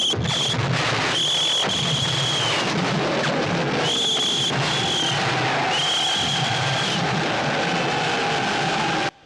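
Booming blasts and rumbling detonations from a war film battle scene on a bright day, set in the 1957 film Paths of Glory, continuous and dense with sharp whistling tones cutting through, no voices.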